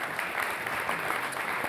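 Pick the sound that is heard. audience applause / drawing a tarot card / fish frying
audience applause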